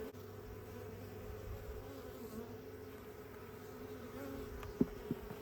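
Steady, dense buzzing of many honeybees in a hive fills the air continuously, with a couple of faint taps near the end and no voices.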